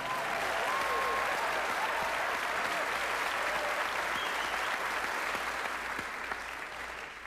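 Sustained audience applause, steady and fairly loud, a thick wash of clapping that holds for several seconds and then begins to taper off near the end.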